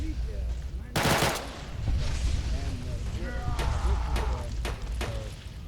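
Bursts of enemy gunfire in Fallout New Vegas, with fiery napalm cannon shots, crackle out in a loud opening volley and then in scattered sharp reports, over a steady background rumble.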